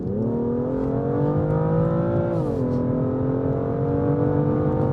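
A 2018 BMW M2 LCI exhaust droning steadily under hard acceleration in fourth gear, a loud, continuous engine note climbing in pitch, with a brief dip midway before it keeps rising, and no talk over it.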